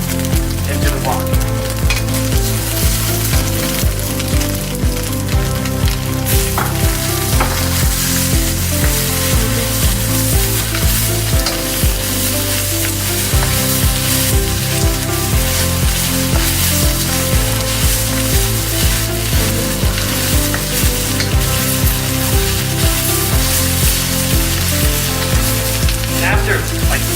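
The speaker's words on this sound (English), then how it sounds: "I will put all the chopped tomatoes into the wok" Chopped tomatoes frying in a wok for fried egg with tomatoes, a loud continuous sizzle with spatula scrapes and clatter recurring over nearly half a minute.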